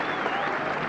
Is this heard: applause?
yes